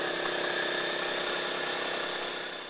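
An air compressor nozzle blasts air through a residential HVAC condenser coil, producing a loud, steady, broadband hiss that holds for several seconds and eases off slightly at the end.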